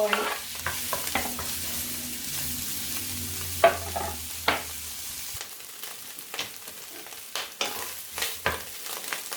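Pad thai ingredients, among them preserved radish, are stir-fried in a pan with a steady soft sizzle under repeated scraping clicks of a spatula, close and moderately quiet.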